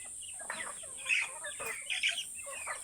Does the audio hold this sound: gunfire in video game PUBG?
no